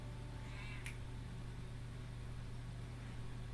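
A house cat gives a short, faint meow followed by a sharp click, set against a constant low electrical hum with no talking.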